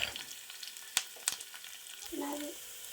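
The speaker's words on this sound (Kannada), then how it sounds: "ಸ್ವಲ್ಪ ಚಟಪಟ ಅಂತ ಇರುವಾಗ ಜಜ್ಜಿದ ಬೆಳ್ಳುಳ್ಳಿ ಮತ್ತು ಒಗ್ಗರಣೆ ಬೇವಿನ ಸೊಪ್ಪು" Crushed garlic and curry leaves fry in hot coconut oil with mustard seeds for a mango pickle, giving a quiet crackle with a few sharp pops and a brief louder sizzle near the end.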